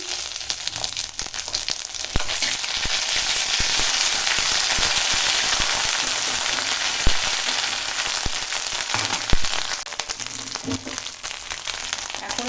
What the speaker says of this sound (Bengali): এখানে তেল গরম হয়ে গেছে আর দেখো ফোড়ন দেব এখন ছোলার ডালে তো নিয়েছি তেজপাতা শুকনো লঙ্কা আর গোটা জিরে দিয়ে দিলাম